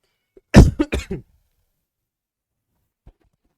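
A single burst of close, loud coughing, three or four quick coughs in a row, followed by near silence.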